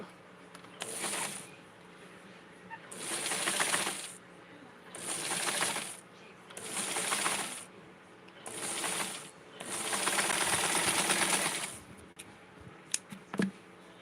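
A sewing machine stitching Barbie doll clothes runs in six separate whirring bursts, each lasting one to two seconds with short pauses between, close and steady, followed by a few small mechanical clicks at the end.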